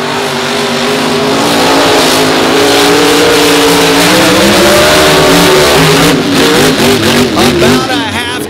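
Two monster trucks race side by side on a beach, their engines roaring loud and close under an excited announcer, revving and accelerating throughout.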